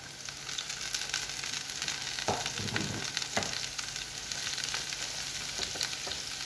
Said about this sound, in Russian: и жарим морковь